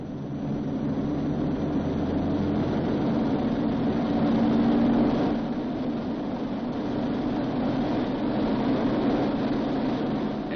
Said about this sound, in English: He releases the parking brake and adjusts the engines for full military power.